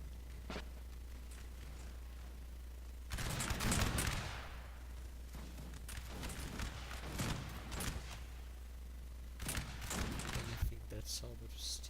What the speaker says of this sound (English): They're firing at the Prussians.